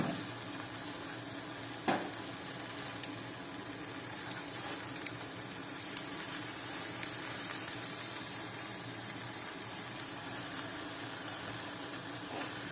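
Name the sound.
small dried fish frying in a pan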